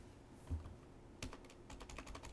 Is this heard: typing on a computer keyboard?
yes